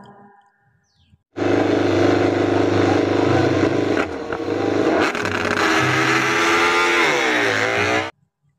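A toy racing motorcycle gives off a loud, steady engine revving sound that starts abruptly, holds for about seven seconds with a brief dip midway, then cuts off sharply.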